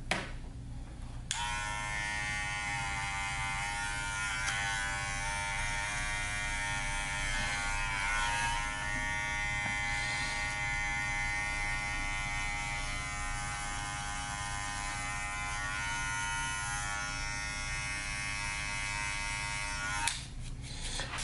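Electric hair clippers buzz steadily and up close while cutting a bald taper, holding a continuous even drone for about twenty seconds with brief changes in tone at the start and end.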